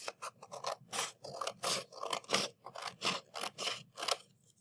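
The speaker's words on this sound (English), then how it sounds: "I'm going to cut it following that fold line" Scissors cut a folded paper circle in half along its crease, giving a quick run of about a dozen close, papery crunching snips at a steady rhythm.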